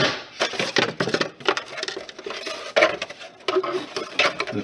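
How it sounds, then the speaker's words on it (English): Scissors snipping through Woodland Scenics shaper sheet, a heavy-duty foil with felt backing, being cut for model railroad tunnel liners; close, crinkly rustling and clipped cuts in irregular bursts with brief pauses. "It cuts fairly easily with scissors."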